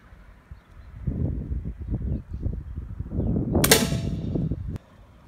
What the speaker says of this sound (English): All right, second shot with a pellet.